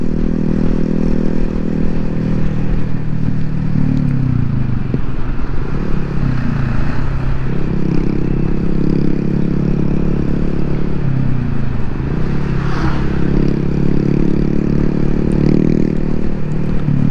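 A Honda MSX motorcycle engine runs loud and steady in street traffic, with a constant mid-pitched drone and a couple of mild revving swells over continuous road noise.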